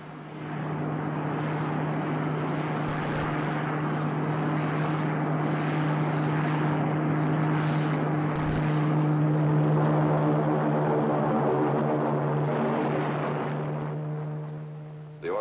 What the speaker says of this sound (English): The Orbit Jet and CM7 and magnetic lock are safely landed, sir.